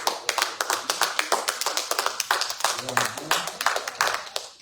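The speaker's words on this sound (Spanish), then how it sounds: "¿Por qué no le dan un aplauso?" Congregation applause in a church service, a rapid burst of many hands clapping close and loud for several seconds, with a voice speaking over part of it.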